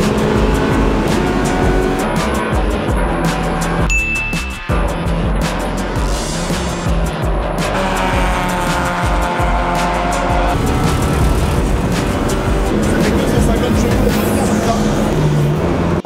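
An Alfa Romeo race car is driven hard on a race circuit, its engine roaring loudly and continuously up close, with rising and falling revs through gear changes and sustained high-pitched whine.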